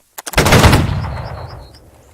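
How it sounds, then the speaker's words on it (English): A loud volley of gunfire from ranks of soldiers firing on command in a video game, a couple of sharp lead-in shots bursting into a dense roaring crackle that slowly decays into a fading tail. "First rank, take aim. Fire."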